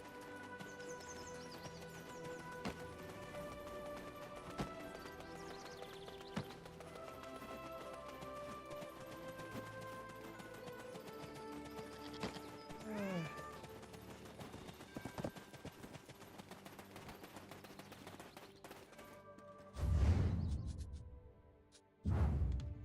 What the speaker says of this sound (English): We're here to see some horses.